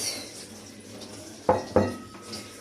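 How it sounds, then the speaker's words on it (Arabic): A spoon stirs coconut into a sweet mixture in a metal pot, with soft scraping and then two sharp clanks of utensil against the pot near the middle, heard up close with no talking. "ونقلب اهو. هنقلب كويس."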